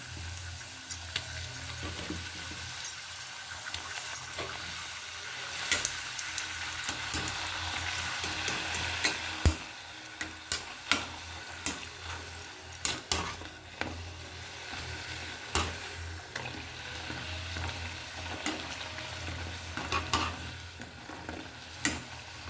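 Puri dough frying in hot oil for homemade pani puri, giving a steady close hiss and bubbling sizzle with scattered crackles and pops throughout, alone without talk.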